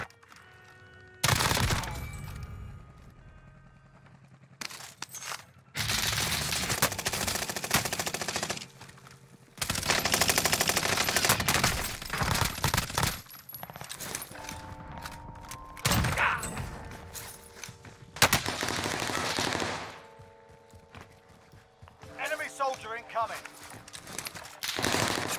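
Bursts of automatic Mini MP5 gunfire in a shooting video game come in several loud sustained volleys separated by short pauses, with game sound effects in between.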